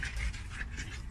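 A dog pants in quick, soft, rhythmic breaths close by, quiet and brief, with no talk over it.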